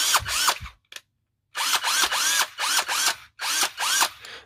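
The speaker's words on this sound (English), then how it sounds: "it operates very fast. That's the good thing about this drill." An 18V Topvork cordless drill driver whirs in several short high-pitched bursts, each spinning up and down, separated by brief pauses, close and clear.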